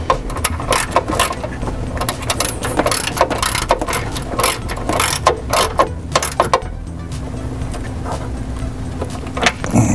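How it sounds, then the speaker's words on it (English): Ratchet wrench loosening a nut from a stud inside a car during a subwoofer install, a rapid series of metallic clicks and clacks in short bursts, close and fairly loud over a steady low hum. "we'll remove that bolt or that nut"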